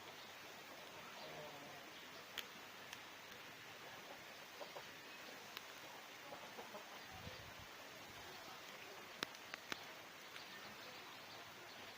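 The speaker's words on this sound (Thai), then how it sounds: "ฝนตกครับ หน้าบ้านฝนตก" Steady broadband hiss of rain falling in front of a house, constant and even throughout, with a few faint clicks and taps scattered on top.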